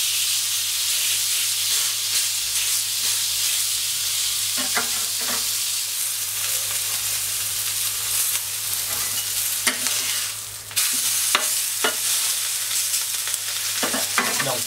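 A thick cut of meat, 3–4 cm, searing in a hot pan just after being flipped, giving a loud, continuous close sizzle with a few sharp spatters and a brief dip before the hiss surges back.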